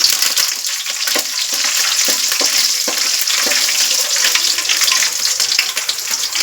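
Garlic hits hot oil in a pan and fries with a loud, close, continuous sizzle, scattered sharp pops and crackles running through it, and no one speaking.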